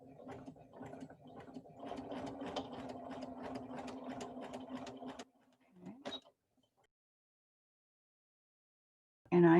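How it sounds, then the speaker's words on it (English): Sewing machine stitching steadily in rapid repeated needle strokes for about five seconds, then a brief short burst and a long quiet pause before another sound starts at the end. "I'm going to slow down that stitch speed."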